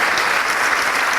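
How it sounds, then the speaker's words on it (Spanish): Audience applause at a lecture on globalization, a dense, steady wash of clapping from many hands filling the whole moment without pause. "también aplaudámoslo porque es un tipo bárbaro"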